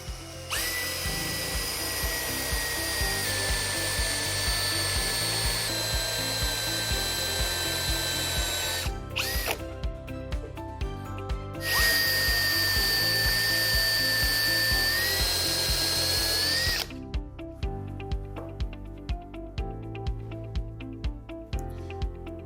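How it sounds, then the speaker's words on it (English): A power drill with a doweling jig whines in long, steady bursts, boring holes into wood with grinding and rattling, stopping and restarting, loud and close with no speech. "Now we're ready to drill some holes."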